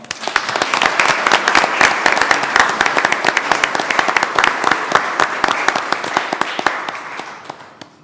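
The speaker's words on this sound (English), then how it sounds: "Let's give her another round of applause." An audience at a city board of aldermen meeting claps steadily in a sustained round of applause, full and close throughout before tapering off at the very end.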